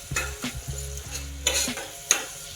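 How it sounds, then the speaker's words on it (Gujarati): Turmeric, coriander-cumin, green chilli and red chilli spice masala sizzling in a pan while being stirred, with soft scraping strokes and a couple of sharper clinks, close and fairly quiet. "વ્યવસ્થિત આ બધો મસાલો આપણે ચડવા દેવાનો છે બે મિનિટ સુધી"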